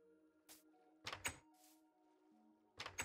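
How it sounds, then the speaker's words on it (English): A door closing in Minecraft Bedrock Edition with ray tracing, heard as a few hollow wooden thunks in separate bursts, close and fairly loud over quiet game background tones, with no talking. "Gotta close the door."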